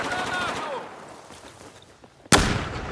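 A sniper rifle fires in Battlefield 4, a single sharp, loud shot near the end that follows a stretch of talking and quiet game ambience.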